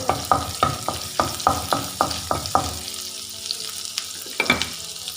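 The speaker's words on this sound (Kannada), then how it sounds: "ನೆಕ್ಸ್ಟ್ ಇದಕ್ಕೆ 1 ಚಮಚ ಸಣ್ಣಗೆ ಕಟ್ ಮಾಡಿರುವಂಥ ಶುಂಠಿಯನ್ನು ಹಾಕ್ತಾ ಇದ್ದೀನಿ. ಹಾಗೂ ಬೆಳ್ಳುಳ್ಳಿಯನ್ನು ಹಾಕ್ತಾ ಇದ್ದೀನಿ. ಇದು ಚೆನ್ನಾಗಿ ಫ್ರೈ ಆಗಲಿ." Finely chopped ginger and garlic fry in a pan for crab soup, with a steady rhythm of close spatula scrapes over a continuous sizzle that then settles into gentler frying alone.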